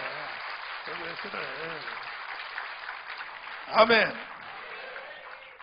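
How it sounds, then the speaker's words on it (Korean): A Korean church congregation applauds during a Sunday sermon, a steady wash of clapping running under the preacher's voice and swelling to a brief louder burst near the end. "박수해, 박수해, 박수해, 박수해."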